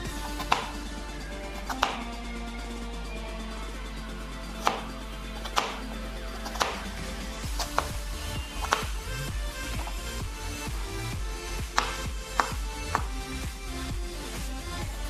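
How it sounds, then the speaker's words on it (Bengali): A knife chops two potatoes into small pieces on a board for a vegetarian okra-and-potato curry, giving sharp, irregular thuds in uneven bursts, close and clear, with no talking. "আলুগুলোকে ছোট ছোট করে কেটে নেব"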